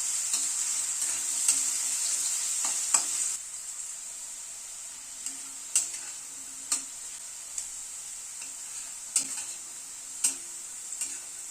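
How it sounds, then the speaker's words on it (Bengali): Boiled potatoes frying in hot oil in a pan, a steady sizzle with periodic clinks and scrapes of a spatula stirring, close and moderately loud with no talk. "আলুটাকে লাল করে ভেজে নিলাম"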